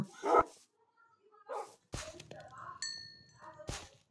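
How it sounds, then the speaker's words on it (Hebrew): A pet dog in the Minecraft video game gives a few short, sharp barks and yips, spaced apart between bursts of speech, fairly clear and close in the game's sound. "איפה הכלב שלי? הנה הכלב שלי."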